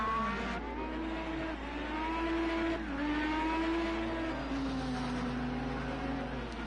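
An IndyCar race car engine in Project IndyCar drones steadily and loudly as the car runs through a final corner, pitch rising and falling with the throttle, no talk over it.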